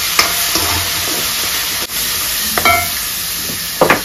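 Onion fries for a chicken curry, a loud, constant sizzle close up, broken by a few sharp scrapes and knocks of a spoon stirring in the pan.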